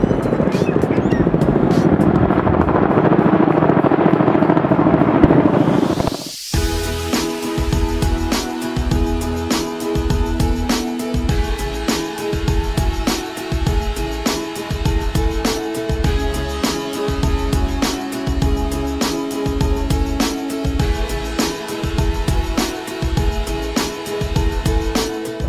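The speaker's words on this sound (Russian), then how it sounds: "Военные томагавки, самолеты летают вокруг острова Свободы." Military helicopters circle Liberty Island, their rotor thumping pulsing steadily and continuously over a broad rumbling drone, fairly loud and sustained, after an opening stretch of louder wind-like noise that cuts out abruptly.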